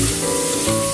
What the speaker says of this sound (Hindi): तो चलिए मैं पहले इनको फ्राई कर लेता हूँ, हल्का लाइट फ्राई हो चुके हैं।